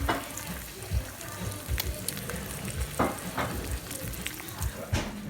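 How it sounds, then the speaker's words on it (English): An egg frying in a hot pan gives a steady, close sizzle and crackle, with a few sharp scrapes and taps of a spatula as it is turned. "Got that egg fried. Flip it over."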